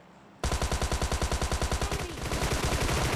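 Rapid automatic gunfire in PUBG Mobile Lite, a loud, steady stream of evenly spaced shots that starts abruptly and runs without pause to the end, with no talk over it.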